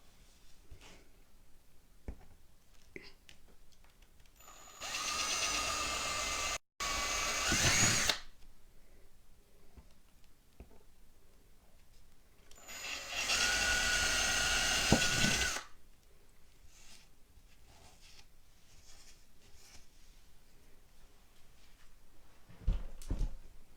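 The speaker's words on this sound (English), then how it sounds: "I'm using my new cordless Ryobi drill" A new cordless Ryobi power drill whirs in two separate bursts of a few seconds each, loud and close, with quiet pauses and faint handling noises in between.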